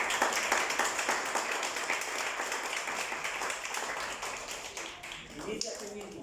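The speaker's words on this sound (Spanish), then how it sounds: "Dale un aplauso al Señor en esta tarde." A church congregation claps for God during an afternoon service, a dense, loud run of applause that carries on under a speaking voice and thins out toward the end.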